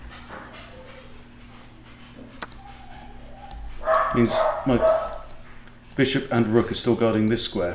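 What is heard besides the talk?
dog barking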